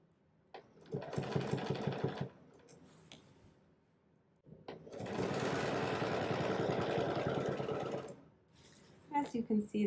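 A sewing machine running free-motion quilting on an echoed square design whirs in two long, steady stitching runs with a fast mechanical pulse, separated by a short pause, while someone talks over it.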